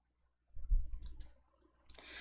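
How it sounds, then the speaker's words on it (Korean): A computer mouse double-click during spreadsheet work, two quick faint clicks near the start, then a further pair of small clicks and a soft rustle after a short pause, close and quiet with no talk. "더블 클릭"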